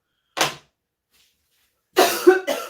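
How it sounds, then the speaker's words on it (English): Two bursts of dry coughing from a woman in a home kitchen: one short cough, a pause, then a harsher double cough, close and loud with silence between. "I do get a dry cough in the morning."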